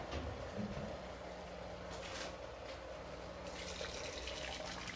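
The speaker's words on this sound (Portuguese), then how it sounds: "Agora vamos acrescentar água que está quase fervendo." Nearly boiling water is poured into a pot of beef for a pot roast with potatoes and carrots. A faint, steady rush and splash of liquid runs throughout, with no talk.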